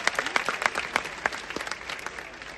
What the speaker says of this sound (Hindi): तो जरा नीचे बैठने वालों के लिए भी जोरदार तालियां होनी चाहिए।